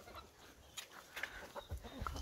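A rooster clucks and calls faintly at a distance outdoors, with short scattered bursts over a quiet, low background.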